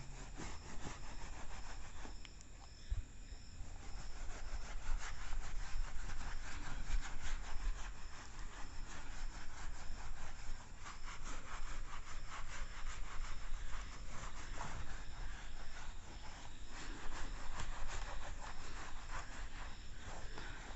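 Writing is rubbed off a classroom board in a steady, close, scratchy scrubbing that goes on for about twenty seconds. The back-and-forth strokes are continuous and no one speaks.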